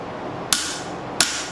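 Two sharp hammer blows on hot steel while forging a knife from an old file, crisp metallic strikes about 0.7 seconds apart, close and alone.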